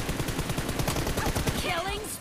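Rapid automatic gunfire in a PUBG-style first-person TDM match, dense repeated shots close by throughout, with a faint voice underneath.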